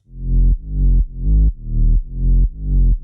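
Deep, gritty sine wave sub bass notes distorted with a Decapitator plugin, pulsing in a steady rhythm, six swelling hits with a buzzy, saturated edge, loud and alone.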